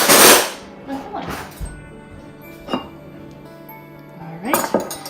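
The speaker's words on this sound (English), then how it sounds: "Let me grab a spoon and a large fork, and I can spoon in" Cold chicken pot pie filling being scooped with a spoon and a large fork, with a few metallic clinks and scrapes against a bowl, spaced out and close, plus some soft handling noise.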